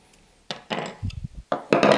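A tool tightens the spindle axle of a Speedplay bicycle pedal up close, giving a few short scraping, clicking and ratcheting bursts with brief pauses between them, with no talking.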